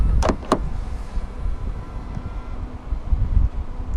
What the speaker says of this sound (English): Press this black button to lock the car.